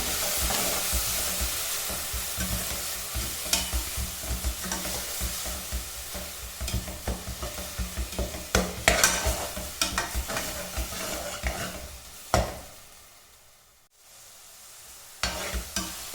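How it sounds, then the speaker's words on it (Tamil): Ground chana pulao paste sautéed in a hot pan, with steady frying sizzle and rapid, rhythmic scraping strokes of a spatula throughout, pausing briefly near the end before resuming. "நல்லா பச்சை வாசனை போகிற வரைக்கும் நல்லா வதக்கி விட்டுடலாம்"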